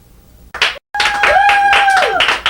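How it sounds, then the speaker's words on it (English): Applause from a TV talk show studio audience, a loud burst of clapping broken by a short gap, then steady clapping with a tonal musical line running beneath it. "Cue the applause"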